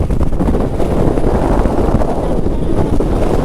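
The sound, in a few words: strong wind blowing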